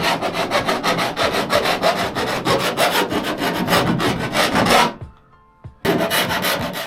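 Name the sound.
filing the cut edge of a window hole in a van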